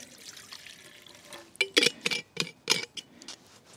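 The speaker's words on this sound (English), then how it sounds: "I'm just going to put a little bit of water in the bottom of my zebra." Water poured into the bottom of a Zebra pot outdoors at a lakeside, heard as a series of close splashing, trickling bursts in the second half after quieter rustling.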